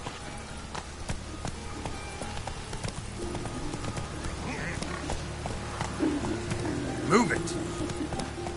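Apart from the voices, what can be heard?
horse hooves galloping in The Witcher 3 video game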